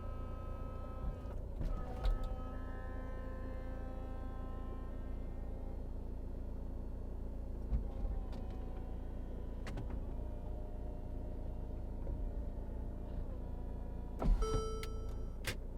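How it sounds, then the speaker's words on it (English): The folding roof of a 2014 Mercedes-Benz SLK250 CDI retracts with a quiet electric motor whir and a few mechanical clunks and clicks. A louder clunk comes near the end as the roof settles. "Okay, I'll just put the hood down."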